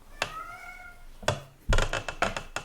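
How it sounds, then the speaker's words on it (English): A cat meows several times, with a drawn-out tonal call near the start followed by shorter, louder cries, fairly close and alone without talk. "Sometimes she likes to go in the corner and just meow at something that I can't see"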